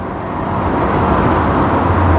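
A Smart Crossblade car on a rainy English road pulls away after a slow gearbox shift, its engine and road roar swelling steadily and loud up close.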